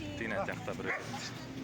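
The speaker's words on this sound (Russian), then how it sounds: "Красивые щенки, действительно." Puppies at an outdoor dog market in Bishkek, giving high, thin yips and whimpers close by while someone talks over them.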